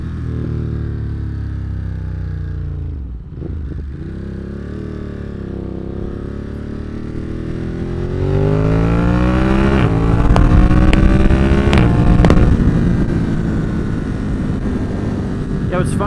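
Motorcycle riding along a road, engine droning steadily and then revving up with rising pitch as it accelerates, loud and close with wind rush, while a rider talks over it.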